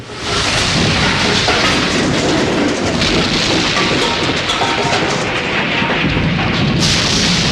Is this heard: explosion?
yes